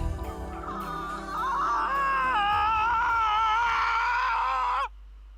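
A drawn-out, wailing scream from a female character in the visual novel game Steins;Gate 0, rising and sustained for several seconds before cutting off abruptly, loud and alone.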